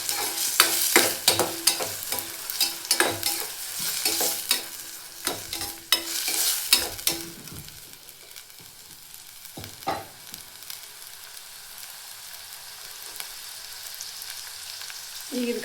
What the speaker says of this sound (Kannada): ಇದನ್ನು ಈ ಥರ ಮಿಕ್ಸ್ ಮಾಡ್ಕೊಂಡು ಫ್ರೈ ಮಾಡ್ಕೊಳ್ಳೋಣ.